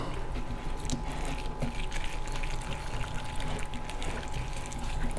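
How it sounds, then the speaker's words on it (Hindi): Water poured in a steady stream into besan pakora batter, a continuous soft splashing with a faint background hum throughout. "थोड़ा सा पानी हम इसमें और ऐड करेंगे।"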